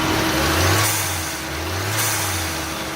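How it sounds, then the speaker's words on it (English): A car engine revs up and settles twice with the air box removed, a steady low drone with a hissing, whooshing turbo note riding on top. "since the air box is off, you get to hear the cool turbo noises."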